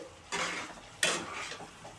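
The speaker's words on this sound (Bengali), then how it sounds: "আলুগুলো দিয়ে ভালো করে এবার কষাবো" Potatoes being stirred and sautéed in a spice paste in a pan; two bursts of sizzling with utensil scraping come in quick succession, moderately quiet with no talk.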